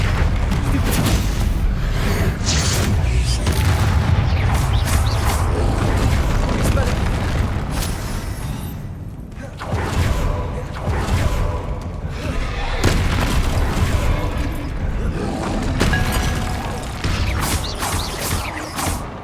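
Blasting spells in Hogwarts Legacy set off a loud, continuous barrage of booming explosions and crashes during a troll fight, dense and rumbling throughout, with character voices underneath.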